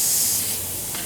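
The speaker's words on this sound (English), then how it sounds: "simply release the pressure from the gun" Pressure vents from a spray gun used for Mopar fabric protector in a vehicle interior as a loud, steady hiss close by that eases slightly toward the end of the one-second burst.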